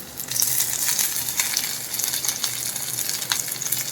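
Garlic, coriander and green chillies fry in hot oil, a steady close sizzle with crackling pops running throughout, with no voices.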